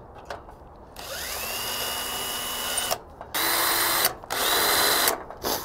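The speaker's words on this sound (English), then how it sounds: "So I'm gonna pre-drill these 3 holes." A power drill whines in a series of bursts while pre-drilling three holes for a generator installation, spinning up and holding a steady high pitch, with short pauses between each hole.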